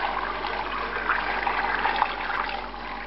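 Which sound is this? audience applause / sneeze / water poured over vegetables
water poured over vegetables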